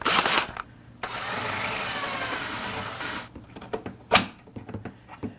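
Power drill boring a 3/16 inch hole in a wooden Tweed 5F1 amp cabinet: a brief burst, then a steady two-second whine close by, followed by scattered knocks and handling clatter.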